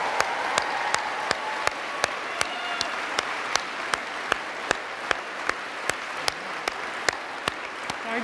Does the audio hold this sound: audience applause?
yes